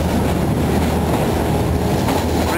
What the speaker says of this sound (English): It was worth traveling on this toy train.